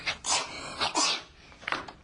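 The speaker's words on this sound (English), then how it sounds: "she had bad allergies and was always sneezing" A person sneezes a few times in quick succession, each a short sharp burst up close, with a little breathy sniffing in between.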